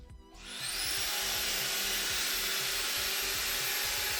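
A JIMMY H9 Pro cordless vacuum cleaner, rated at 25000 Pa suction, switches on and ramps up into a steady, loud, high-pitched motor whine that runs on without a break, with no talking.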